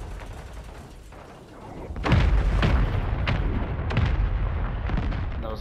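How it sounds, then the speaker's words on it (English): Airstrike explosions in the Call of Duty Warzone video game: a series of loud, heavy booms and thuds arrive one after another from about two seconds in, rumbling over a constant din of gunfire and battle noise. "I had to run, so I didn't die to that airstrike."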